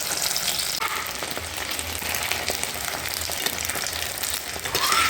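Small flour dough balls frying in oil over low heat, a steady dense sizzle with faint crackles running throughout, close and fairly loud.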